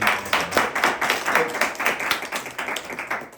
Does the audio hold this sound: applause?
yes